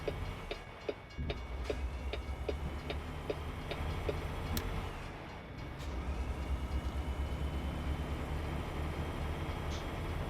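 A steady, regular ding of train crossing bells in American Truck Simulator rings over a low rumbling truck engine drone, fading briefly midway before continuing.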